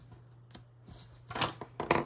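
Paper snipped with scissors while putting together a horizontal Happy Planner layout, a few short crisp cuts that come closer together and grow louder toward the end, heard alone with no talking.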